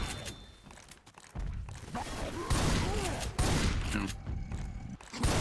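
Gunfire in a zombie shooter video game as players fire at a tank, dense overlapping shots and rattling effects mixed with game noise, with a brief spoken word partway through.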